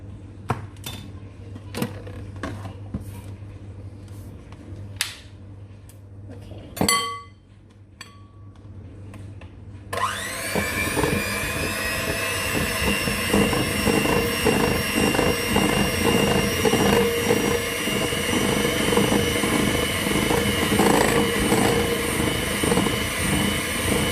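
Milk being whisked into cake batter: a few light clinks and taps in a quiet kitchen, then a loud, steady motorised whirring that continues to the end, heard close up.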